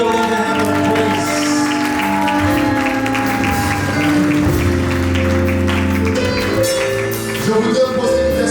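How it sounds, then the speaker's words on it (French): A wedding congregation in church applauds in praise, a dense burst of clapping under loud sustained music with a steady held tone, the claps partly buried in the mix. "Let's give the Lord a hand of praise"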